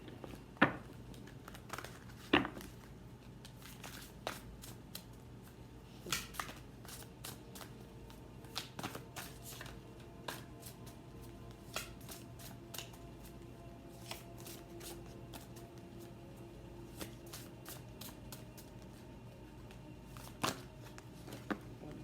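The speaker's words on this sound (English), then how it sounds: "So you want to be careful if you were to get this deck on how you mix it." A deck of tarot cards being shuffled by hand: soft papery rustles and faint taps repeat irregularly over about twenty seconds, close but quiet, with a few sharper snaps near the start.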